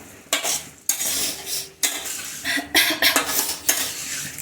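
A spoon scrapes and stirs Indian-style pasta in a metal pan in circular motions, loud clattering strokes and scraping in irregular bursts with a light sizzle underneath, close up and without voices.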